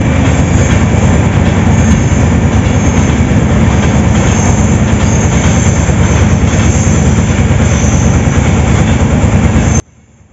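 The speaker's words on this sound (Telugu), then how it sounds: "సో ఏదో ట్రైన్ వెళ్తున్నదండి." A train passes close by with a loud, continuous rumble and rattle that holds steady for about ten seconds before cutting off abruptly. No one speaks.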